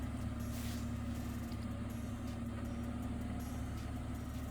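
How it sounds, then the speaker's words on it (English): An old tractor engine running steadily, a low droning rumble with constant hum, heard close and unbroken with faint higher mechanical whine above. "So the old tractor back up and running, working, doing its thing."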